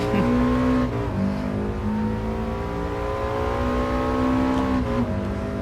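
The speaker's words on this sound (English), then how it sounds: "I got her drifting." Engine revving and a car drifting in the GT Sport racing game, played in VR. Sustained mechanical engine tones rise and fall continuously across the whole stretch, fairly loud and steady, with no talking.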